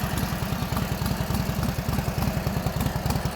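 A 1942 Harley-Davidson WLA engine runs at idle after a cold start. A close, steady low-pitched thumping beat with mechanical clatter continues throughout, and no voices.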